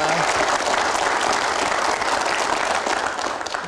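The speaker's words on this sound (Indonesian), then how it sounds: "kita berikan aplaus untuk prestasi yang luar biasa." A television talk-show studio audience breaks into loud, sustained applause, with dense clapping that stays even throughout and thins slightly at the end.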